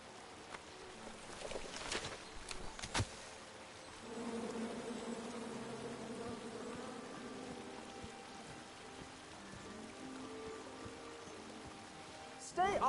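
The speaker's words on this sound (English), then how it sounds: "And then you chop down the tree full of angry bees?" Angry bees buzz from a chopped-down tree in the King's Quest game on PS4, a steady drone under game music and scattered effects, with brief speech near the start.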